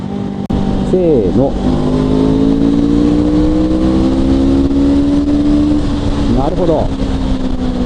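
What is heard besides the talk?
Honda CL500 motorcycle engine accelerating in third gear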